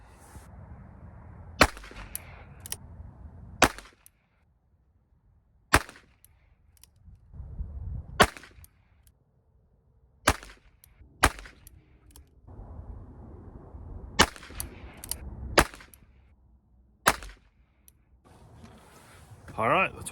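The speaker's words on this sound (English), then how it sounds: "let's get to shooting. All right, we're just going to do a 3-shot group with all 3 types of ammos" A Ruger Wrangler revolver fires in groups of three at an outdoor range, about a dozen sharp, loud cracks spaced a second or more apart. Someone talks quietly between the shots.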